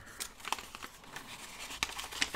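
A sheet of paper is folded over to form a tall narrow envelope pocket, producing soft crinkles and a few crisp creasing rustles close to the microphone.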